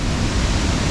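Ban Gioc waterfall on the China–Vietnam border roars as a steady, dense wash of falling water, loud and constant with no other sounds breaking through.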